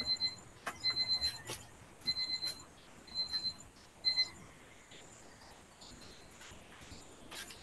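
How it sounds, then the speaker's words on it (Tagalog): An electronic alarm beeps in quick high-pitched bursts, four or five short clusters over several seconds, fairly faint against a quiet room during a sermon, then stops. "Ayan, nag-alarm."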